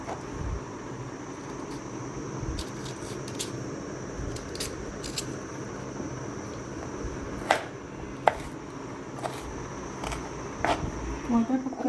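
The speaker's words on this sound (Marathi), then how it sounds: "आता याचे कटिंग करून घेऊया कोय काढून घ्यायची बारीक तुकडे सर्व काढून घेते" Knife chopping peeled raw mango into small pieces on a board, the seed cut away, giving scattered sharp taps and clicks at an uneven pace over a steady background hiss, moderately close.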